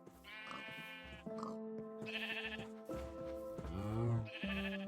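Sheep in the Minecraft video game bleating repeatedly, several clear wavering bleats one after another over a quiet background.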